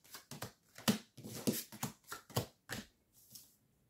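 Tarot cards being handled and shuffled on a table, a series of crisp close flicks and slaps in an uneven rhythm, about a dozen distinct bursts before falling quiet, with no talk.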